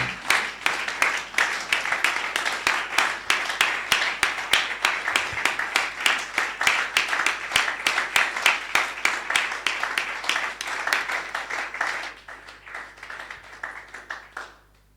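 A church congregation claps in a steady rhythmic beat, dense and lively, for about twelve seconds before thinning out to scattered claps and fading.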